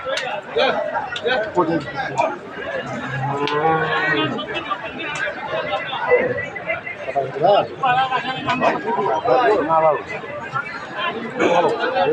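Cattle moo and low amid a busy crowd at a livestock market at Khochabari in Thakurgaon, Bangladesh, with many people talking and bargaining nearby throughout.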